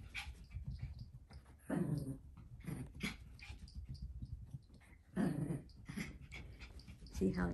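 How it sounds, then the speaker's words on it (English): A small Yorkie dog growls in low, rumbling bursts, close by, several throaty episodes spaced a few seconds apart with softer whimpers between them, under a quiet background. "she's just growling a little bit"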